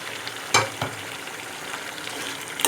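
Mutton karahi sizzles in a pan in a steady crackling hiss, broken by a few sharp stirring scrapes and clinks.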